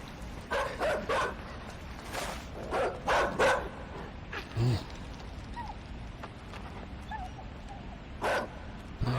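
Attack dogs in the game Inside bark repeatedly in bursts of two or three, loud and fairly close, with yips and gaps between volleys over a low background.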